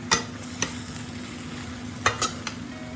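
Aubergine fries in a generous pour of oil for a Sri Lankan curry, giving a steady close sizzle with a few sharp clatters of a utensil against the pan.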